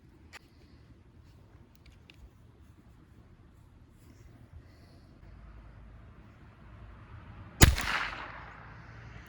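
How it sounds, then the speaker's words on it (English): A Ruger 10/22 rifle fires one Federal AutoMatch .22LR round outdoors, a single sharp crack that decays quickly after quiet ambient background. "this is the Federal again, the auto match, and this is going to be with a 1022 Ruger"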